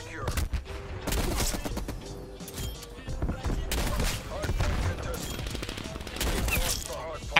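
Sharp, loud M82 sniper rifle shots in Call of Duty Cold War, repeated cracks mixed with other gunfire and game effects throughout a busy multiplayer match.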